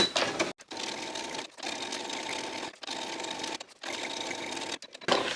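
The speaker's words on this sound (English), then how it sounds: "I'm just going to sew in the middle bit" A sewing machine stitching through a paper bag journal cover, buzzing in steady runs broken by several brief stops, loud and close with no voices.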